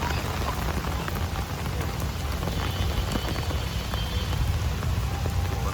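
Steady rain falls on leafy green trees, a dense, even hiss of drops that holds at a constant loudness throughout with no talking.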